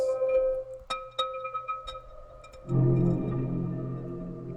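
Sparse chimes and soft tones ring out from the Output Arcade sampler, then a warm, hazy synth pad swells in and sustains quietly to the end.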